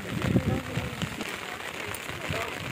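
Rain falls steadily on surfaces in a village on the day of Ganesh idol immersion, a dense continuous patter with a few louder low thumps near the start, heard alone without talk.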